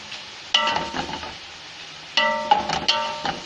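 Onions frying in hot oil until brown for beef haleem, with a steady close sizzle broken by two bursts of louder bubbling and crackling as the pan is stirred.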